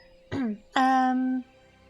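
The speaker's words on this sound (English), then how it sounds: "I'm sorry if I'm clearing my throat a bit more than usual" A streamer with a slightly sore throat clears it twice near the microphone, a short rough burst followed by a longer, louder voiced rasp, then quiet.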